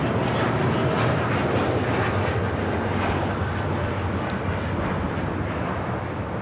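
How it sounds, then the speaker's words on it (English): Air Tahiti Nui Boeing 787-9 Dreamliner taking off from LAX, a loud steady broadband jet roar that holds strong throughout with a deep low rumble. "This is Air Tahiti Nui Flight 8, taking off to Paris on a 787-9 Dreamliner."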